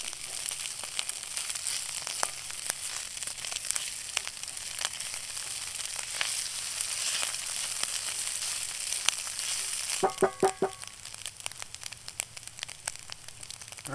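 Breakfast food sizzles and fries in a cast iron skillet over a campfire, a steady crackling hiss with occasional sharper pops and a brief clatter near the end, no voices.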